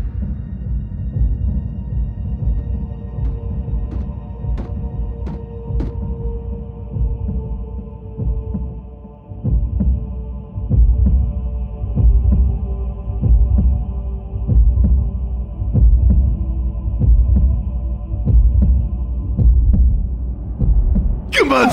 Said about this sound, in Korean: 저건 분명 심장 소리?